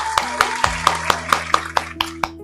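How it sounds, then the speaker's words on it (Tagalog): A church congregation claps together for the Lord in a loud, fast, steady rhythm of about ten sharp claps, close and filling the room, with faint voices underneath. "Malakas na palakpak po sa atin pong Panginoon."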